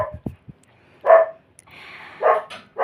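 A dog barks at someone coming in through a gate, sharp short barks in a few bursts with pauses between, fairly close and loud with no talking.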